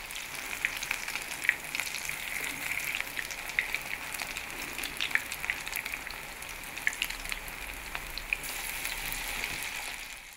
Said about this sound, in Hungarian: A kanalat egyszerűen belemártjuk, és akkor úgy veszünk egy kanálnyi masszát, amit beleteszünk a forró olajba